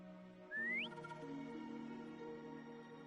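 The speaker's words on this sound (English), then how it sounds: "Try whistling." A short, rising whistle sounds once in the Wuthering Waves video game, used to call Foam, a bright upward glide over a quiet hum of background music.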